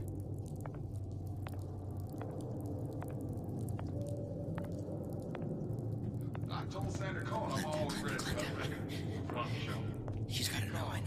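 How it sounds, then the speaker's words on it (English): Close, crisp crunching as someone chews a dry tea bag full of dry tea leaves, a series of irregular brittle bites and squishy chews growing busier toward the end, with soft breathy sounds around them. "I ate a tea bag. Dry tea leaves. That's how I like it. It's crunching."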